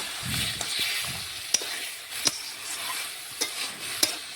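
Chicken and potatoes fry in a pan with a steady sizzle, while a spatula scrapes and knocks against the pan every second or so as the mixture is stirred.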